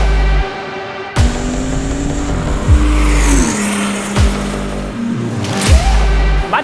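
A BMW 7 Series G12 with a B58 engine and H.DRIVE titanium exhaust revs hard in sharp bursts, rising and falling through several loud throttle blips with crackling exhaust, close and very loud.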